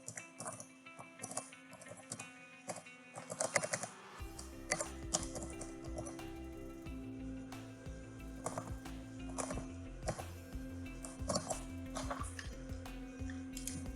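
Light keyboard typing while entering an SAP test case, heard as irregular close clicks and taps spread through the whole stretch over a steady, low background hum.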